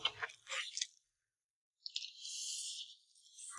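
Crispy rice crust from a clay pot of braised pork hock rice being bitten and chewed, close crunching bursts at the start, a pause, then a longer sustained crackly crunch.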